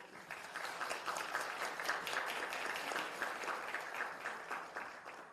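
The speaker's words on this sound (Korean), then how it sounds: "큰 박수로 환영 부탁드리겠습니다." Steady, sustained applause from an audience at a student town-hall meeting welcoming arriving political guests, a dense wash of clapping with no talk over it.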